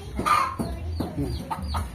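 Chickens at a rural home cluck in short, repeated bursts close by, with several birds calling over light background noise.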